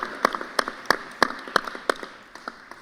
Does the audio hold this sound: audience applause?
yes